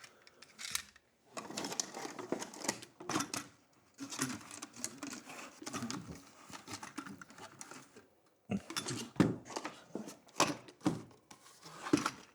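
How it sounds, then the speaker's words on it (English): A staple gun drives staples into wood, a run of quick, sharp clacks and thumps in bursts with short pauses between them, close by and fairly loud. "Let's see if we can get a staple into these, into this wood."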